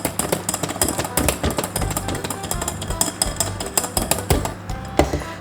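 Oil and milk stirred by hand into cake batter in a bowl: rapid, irregular clinks and knocks of a utensil against the bowl, close and fairly loud, continuing throughout without talk.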